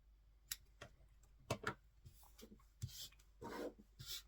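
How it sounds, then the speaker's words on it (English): Quiet scraping and rasping of a tool fine-trimming a foam dog kibble piece for shape and texture, in short irregular strokes with brief pauses, close and soft. "You can just fine trim it to get the shape and the texture right."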